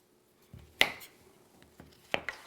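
A knife chops through half a potato on a cutting board in a home kitchen, giving three sharp, close chopping strikes spaced about a second apart, with soft handling noise between them and no talking.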